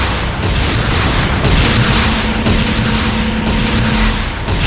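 A building blows up in Command & Conquer Renegade, a loud sustained rumbling roar of destruction with crackling debris that runs the whole stretch alongside other battlefield noise.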